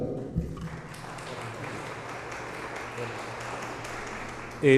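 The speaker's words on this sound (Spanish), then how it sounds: "vamos a recibir con un fuerte aplauso" An audience applauds steadily to welcome a speaker at a Jurado Nacional de Elecciones electoral event. The dense clapping carries evenly for several seconds before a louder burst at the end.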